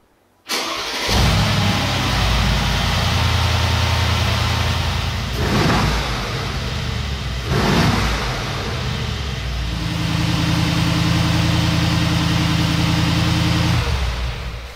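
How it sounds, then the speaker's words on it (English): A Mercedes-AMG G63 Hofele Limited engine cranks and fires into a loud, close idle, then blips through two sharp revs before settling back to a deep, rumbling idle that holds steady until the end. "So let's start the engine and we will listen to the sound."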